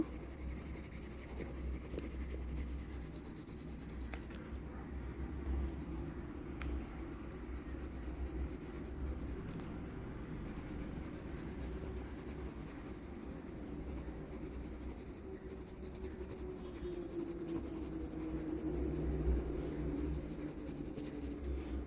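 Pencil lightly sketching strands of hair on paper, a soft continuous scratching of fine strokes, faint and close, with no voices.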